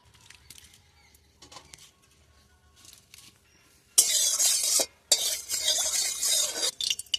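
Potatoes hit hot oil in a wok in a village kitchen, first a few faint clinks and stirring taps, then a loud, hissing sizzle that bursts up, breaks off briefly and keeps crackling close by.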